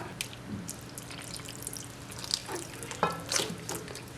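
Dates bonda batter being mixed by hand with added water, a soft wet squelching and stirring with a few small splashy knocks, close and fairly quiet, no talking.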